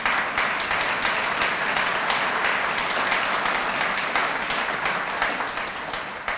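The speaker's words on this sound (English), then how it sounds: "You can clap." An audience at a university fall campus assembly breaks into dense, sustained applause that stays loud and even for several seconds with no talking over it.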